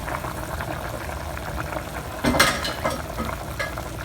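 Ital Jamaican soup boils in a pot with a soft bubbling, spattering simmer, steady throughout with a brief louder burst of stirring or splashing near the middle.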